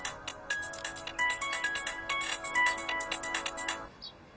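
A phone ringtone for an incoming call plays as a quick, bright electronic melody of repeated short tones, moderately quiet and alone for about four seconds before cutting off.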